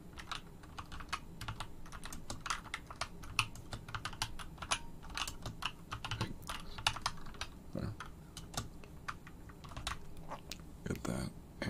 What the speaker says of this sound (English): get that ASMR typing. Beautiful, isn't it?